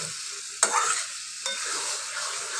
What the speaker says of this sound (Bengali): একটু নেড়ে দেবো খুন্তি দিয়ে।